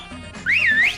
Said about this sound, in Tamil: Whistle not allowed.